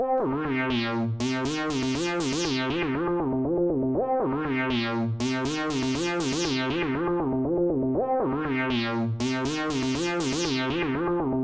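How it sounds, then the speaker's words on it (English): A pitched synth tone with swelling vowel-like harmonics run through a bright, short RE4ORM FX reverb set to a high mix, repeating in three long loud phrases with a small-room sheen. "So it's a very bright and short reverb with a high mix."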